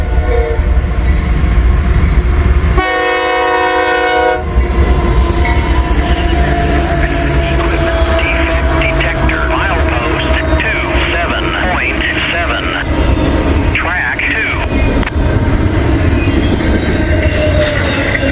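A freight train rumbles past loud and close, with a long blaring horn blast early on and steady heavy rolling noise throughout; a voice can be heard beneath the roar.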